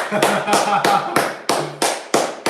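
Close, sharp hand claps in an even rhythm, about eight of them, each one crisp and loud, with a voice faintly present between them.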